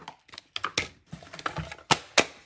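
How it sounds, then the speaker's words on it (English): Paper cranked through a mini cut and emboss machine, a series of close, sharp clicking and ratcheting taps in an irregular rhythm, dry and distinct with no talk. "I'm going to just crank this right through the mini cut and emboss all the way through"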